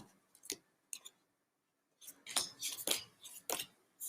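Tarot cards being shuffled in short bursts, giving crisp papery riffles and clicks separated by brief pauses, close and fairly quiet.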